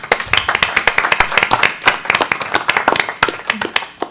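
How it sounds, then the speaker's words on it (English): A city commission meeting crowd claps in a brisk, crisp round of applause honoring twenty years of city service, dense overlapping hand claps close by, steady for about four seconds. "Can I get a round of applause?"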